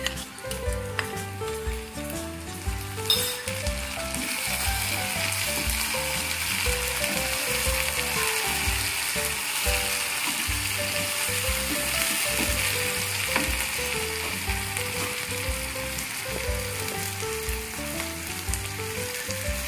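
Chopped tomato sizzles and fries steadily in a hot pan for a Bengali chickpea-lentil and meat curry, a dense close crackle with rhythmic low scraping and stirring throughout, no talking.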